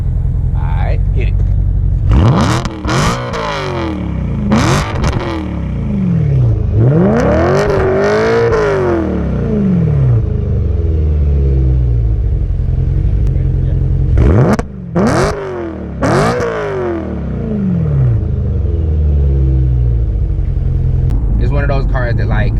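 An E92 BMW M3 engine revs hard several times, its exhaust roaring up and falling back between loud bursts, close by and continuous.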